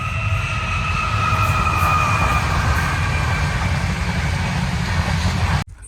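A train rumbles past close by, loud and continuous, with a high metallic whine of wheels over the low roar until it cuts off abruptly.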